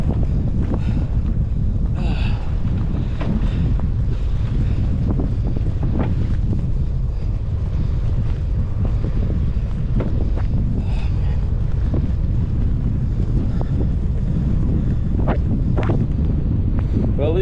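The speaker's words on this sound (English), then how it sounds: "Yeah, it's really windy." Strong wind buffets the microphone outdoors on a cycling training ride, continuously, a loud low roaring rumble with gusty fluctuations and no pause throughout.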